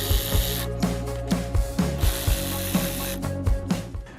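A hand ratchet clicks steadily while backing out T20 Torx screws from the third brake light on a 2014–2019 Chevy Silverado, close and loud over a constant mechanical hum.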